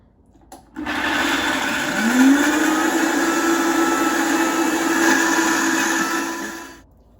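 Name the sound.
blender mixing walnut pâté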